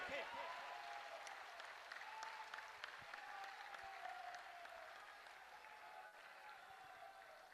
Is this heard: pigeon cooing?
no